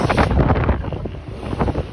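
A boat crosses a slightly choppy sea toward Gili Trawangan, Indonesia. Constant rushing water and engine noise mix with heavy wind buffeting the microphone, loud and continuous throughout.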